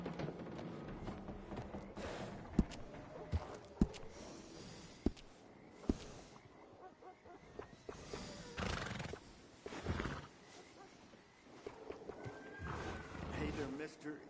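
Horses whinny and clop along in Red Dead Redemption 2, with neighs, snorts and scattered hoof sounds over game ambience while characters talk throughout.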